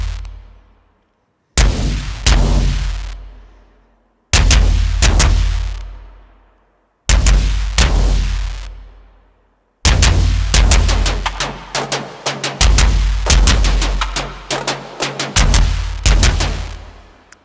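Synthesized orchestral percussion for a drum and bass track: four massive, booming hits, each decaying over about a second with deep rumbling tails, followed by a denser run of rapid thunderous strikes, loud and alone.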